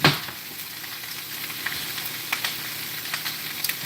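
Broccolini cooking in sesame oil in a lidded pan with no added liquid: a close, even sizzle and frying hiss with scattered small pops and taps, continuous and alone.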